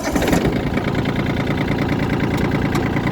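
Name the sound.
tractor diesel engine starting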